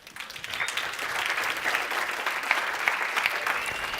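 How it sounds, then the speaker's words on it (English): A room of attendees at a practice-marketing seminar gives a steady round of applause, moderately distant and even throughout, with no talking over it. "Let's give him a round of applause."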